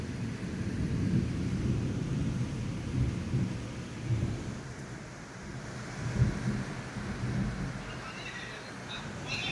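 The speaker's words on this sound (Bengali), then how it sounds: "ঝড় বৃষ্টি শুরু" Thunderstorm with rain, low rolling rumbles of thunder over a steady broadband hiss of rainfall, moderately loud and continuous with no talking.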